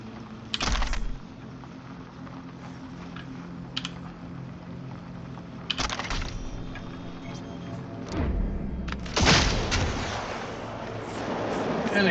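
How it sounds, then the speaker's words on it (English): An electrical EMP explosion in Cyberpunk 2077 crackles in a few sharp bursts, the loudest late on with a crackling, buzzing tail that swells again at the end, over a low steady background hum. "An explosion of electricity, an EMP pulse, I guess."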